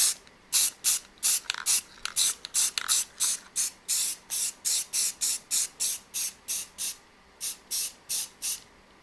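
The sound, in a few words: spray paint coat applied to laser-engraved wood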